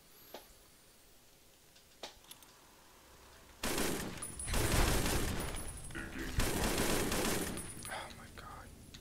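Guns firing in a video game: scattered single shots, then dense bursts of rapid automatic fire in several loud clusters.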